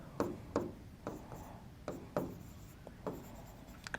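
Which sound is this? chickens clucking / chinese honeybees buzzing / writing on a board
writing on a board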